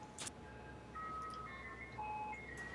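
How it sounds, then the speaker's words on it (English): A synthesized ice cream truck jingle plays a short melody of clear, steady tones, used as the sound of a watery tentacle monster's attack in a role-play game; it is moderately loud and heard alone. "it sounds like an ice cream truck as it does this attack"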